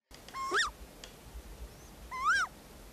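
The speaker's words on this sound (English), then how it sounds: "Barred Owl." A barred owl gives two loud, rising-then-falling wailing calls about two seconds apart, clear against a quiet outdoor background.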